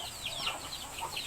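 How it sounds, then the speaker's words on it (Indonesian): Hens clucking in a farmyard with a brood of chicks, a few short repeated calls rising and falling close by over a low ambient background, with no talking. "coba kamu lihat ayam itu."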